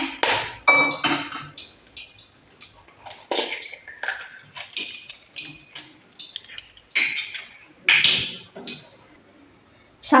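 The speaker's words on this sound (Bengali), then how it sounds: "আমি একটা ডিম ফাটিয়ে নেব।" An egg cracked against the rim of a bowl before seasoning with pepper and salt, for a Bombay duck fish-finger coating: a few sharp, close taps and clinks over a steady high insect-like whine.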